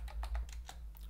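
A quick run of soft keystrokes taps out a command on a computer keyboard, a handful of faint, closely spaced clicks.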